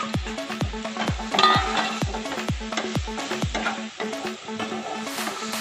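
An Assamese khar dish cooking in a pan, stirred with a utensil that taps the pan in a quick, regular rhythm over a faint sizzle, close and fairly loud, with no talking.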